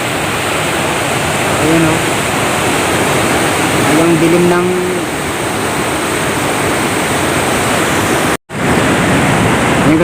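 Floodwater from heavy rains rushes past a bridge in a steady, loud, broadband roar, with a voice speaking briefly over it.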